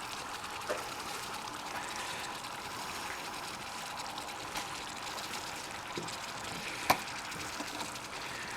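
Sardines and onions fry in a pan with a steady, soft sizzle and crackle, low and constant throughout, with a few faint clicks and one sharp tap near the end.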